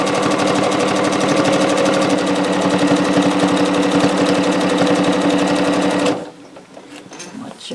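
A sewing machine stitches steadily across a minky quilt, its rapid needle rhythm loud and close for about six seconds before stopping abruptly, leaving quiet room noise.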